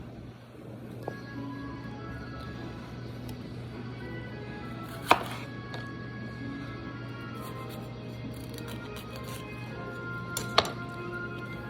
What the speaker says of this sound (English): See me chopping.